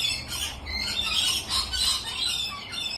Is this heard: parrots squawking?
yes